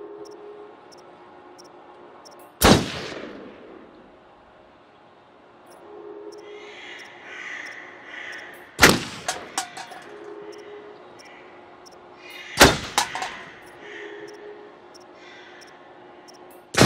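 Three sharp, loud gunshots from a rifle fired at a shooting range in the game Until Dawn, spaced a few seconds apart, each with a ringing tail over quiet ambient background.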